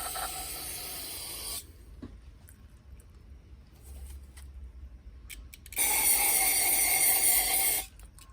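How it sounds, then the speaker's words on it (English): Two bursts of hissing carburetor cleaner aerosol sprayed into a Craftsman snowblower carburetor, one short at the start and a longer one later, loud and steady with quiet gaps between. "Spray a little carb cleaner down through the"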